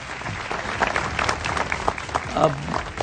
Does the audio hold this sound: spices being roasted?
no